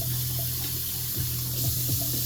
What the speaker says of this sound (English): when you rinse stuff with cold water like noodles